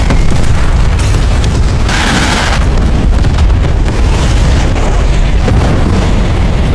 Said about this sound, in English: they triggered the explosives.